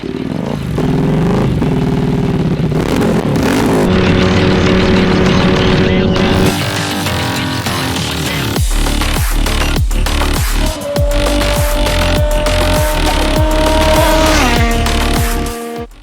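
A Hyosung GT250R 250cc sport motorcycle engine revs loudly and close, rising and falling through several climbs with pitch shifts like gear changes, and a voice speaks briefly over it.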